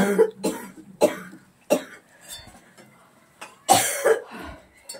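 A person coughs in several short, harsh bursts spaced out over a few seconds, close and loud, with a throat-clearing sound mixed in and no talking.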